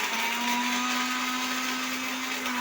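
A mixer grinder whirs steadily as it grinds Oreo biscuits, a continuous motor whine heard close and alone, holding one pitch throughout.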